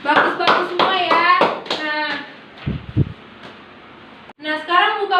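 Schoolchildren in an elementary classroom clap in a quick burst of sharp hand claps, mixed with a few overlapping young voices, before the room settles and a voice speaks again.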